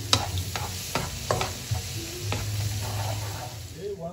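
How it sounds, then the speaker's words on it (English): Garlic fries in hot oil, crackling and sizzling steadily while a utensil scrapes and stirs in sharp intermittent clicks, close and fairly loud, with no talk. "Fry your garlic until the raw smell is gone."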